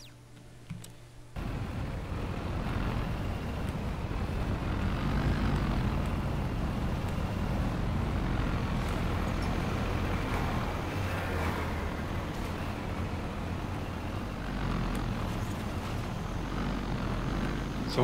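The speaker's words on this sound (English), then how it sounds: "I was waiting for that gunship to plow straight into the rocks." Gunship aircraft in Red Faction Guerrilla drones with a steady, loud engine roar that starts abruptly and holds for the rest of the stretch, with no talk over it.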